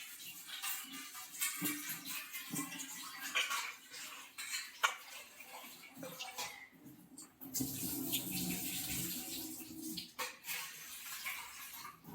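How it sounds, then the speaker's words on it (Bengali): Rice being rinsed and shaken in water in a kitchen pot, ahead of cooking Basanti pulao; steady close splashing and swishing with clinks of a metal vessel, growing louder and fuller in the second half. "চালটাকে ধুয়ে নাও"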